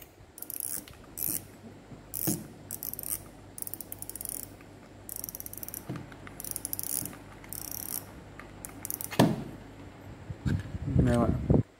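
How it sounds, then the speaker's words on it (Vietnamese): Metal-bodied Nova 10000 fishing reel with its drag clicking in rapid ratchet bursts that come and go, with handling noise and someone talking alongside. "đây là tiếng kêu lúc bạn được cá đây"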